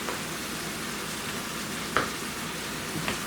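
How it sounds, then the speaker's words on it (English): Garlic sizzles and simmers in a pan with a steady, even hiss close by and a couple of faint clicks, with no voices. "Now while that's simmering for just a little bit to get the garlic opened up"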